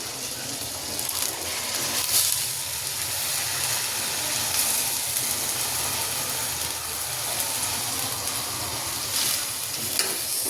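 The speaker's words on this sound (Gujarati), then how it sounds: "હવે આપણે જે કોબી સમારીને લીધી હતી એ એડ કરી દઈશું" Chopped cabbage hits a hot pan in a Gujarati kitchen, making a loud, steady sizzle and frying hiss with scraping stirs running throughout, close to the listener and without talk.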